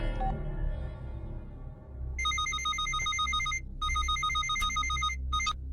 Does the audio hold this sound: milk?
no